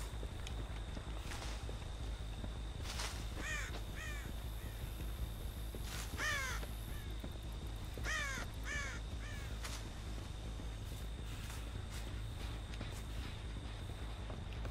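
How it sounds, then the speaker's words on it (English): Disturbed crows caw in Dead by Daylight, several bursts of harsh calls in quick runs over a low ambient drone and faint footstep-like thuds. "It's me disturbing the crows, isn't it?"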